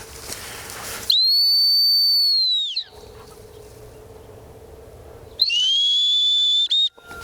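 Two long, shrill dog training whistle blasts during gun dog training, the first lasting nearly two seconds and the second shorter, sounding close against quiet outdoor background hiss.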